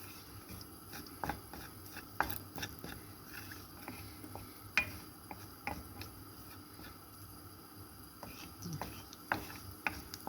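Mustard seeds with a little cumin tempering in hot oil in a kadai for tomato pickle, giving scattered sharp pops and small crackles at irregular moments over a quiet, faint background.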